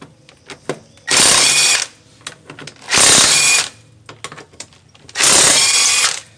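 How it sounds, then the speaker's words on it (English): Impact gun spinning off tire lug nuts with a 19mm socket on a 1998 Dodge Grand Caravan, three loud close bursts of rattling hammering, each about a second long, separated by quieter clinks and handling noises. "Like I said, I'm gonna be using my impact gun."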